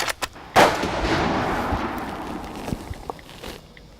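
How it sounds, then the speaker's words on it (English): A single loud rifle shot fired at a target while sighting in a rifle in a field, with a sharp crack and a long rolling echo that fades over several seconds, followed by faint ticks. "So fire another shot now"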